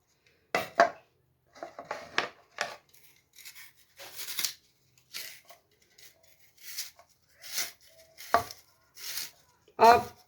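Knife chopping cucumber and carrot for a salad on a cutting board, sounding as a string of short, crisp cuts in irregular bursts with quiet gaps between them, close by.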